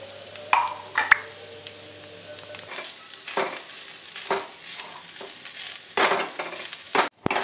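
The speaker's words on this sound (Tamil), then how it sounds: "இப்போ 2 கப் தேங்காய் ஆட் பண்ணியாச்சுங்கன்னா, இப்போ வந்து நல்லா வறுத்துக்கோங்க" Grated coconut, two cups of it, frying in ghee in a pan, with faint sizzling and repeated scraping stirs of a spoon through the mix, plus a sharp metallic clink near the end.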